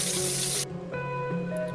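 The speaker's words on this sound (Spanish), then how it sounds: "le he echado un poquito de agua a la sartén para rescatar todo lo que ha ido soltando la carne" Water from a running tap pours in a loud hissing gush, then cuts off, followed by quieter faint sizzling and a resonant hum in a kitchen where rabbit has been fried in a frying pan.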